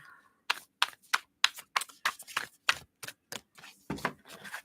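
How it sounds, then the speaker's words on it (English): Tarot cards are shuffled in a string of crisp, rapid riffling bursts, close and fairly quiet, with short pauses between. "Give these a little shuffle, shuffle."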